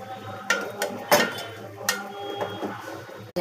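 A metal spoon stirs masala and ginger paste in a pot, giving several close, sharp scraping clinks and taps against the pot at an irregular pace.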